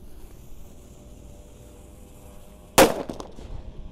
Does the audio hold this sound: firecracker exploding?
yes